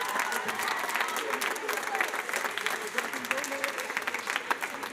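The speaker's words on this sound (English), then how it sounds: "Can you please give them a round of applause?" Applause from a school auditorium audience at a concert, a sustained burst of many hands clapping, dense and fairly close, with scattered voices mixed in.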